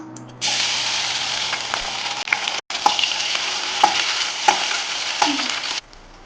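Steady sizzling of ginger garlic paste frying in hot oil for banana stem soup, with a brief stir and scraping clicks from a utensil, close and continuous for several seconds.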